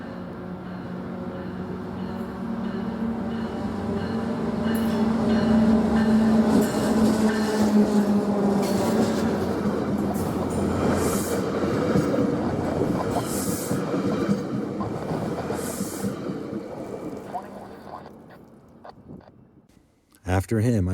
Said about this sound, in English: I'm here to see that same consist going south as train 515.